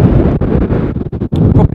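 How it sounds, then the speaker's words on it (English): Strong winter wind buffets a camera microphone beside a park lake during carp fishing, producing a loud, continuous low roar and rumble with gusty dips and surges. "Probably the sound you're hearing now is probably as windy can be."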